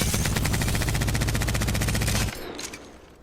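Devotion light machine gun from Apex Legends firing a sustained, rapid automatic burst, loud and close, for a couple of seconds before cutting off abruptly into quieter game ambience with brief clinks.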